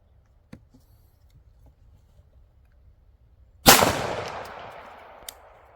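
A single loud, sharp 9mm gunshot from Magtech zinc-plated steel-case ammunition cracks out after several seconds of near quiet, then trails off in a long ringing echo.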